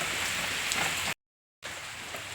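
Heavy rain pours down in a dense, loud, even hiss. A brief moment of total silence breaks it before the downpour resumes.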